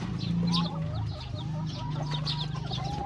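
Day-old Darag native chicken chicks, brooded under a turkey, chirp in many thin, overlapping peeps over a steady low hum, close and continuous without pause.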